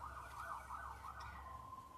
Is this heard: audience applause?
no